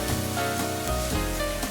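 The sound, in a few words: flour being stir-fried in a pan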